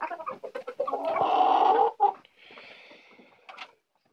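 Laying hens and roosters, including Leghorn-type birds, cluck and squawk close by in a farmyard, with a run of short clucks rising into a longer loud call, then softer murmuring cackles.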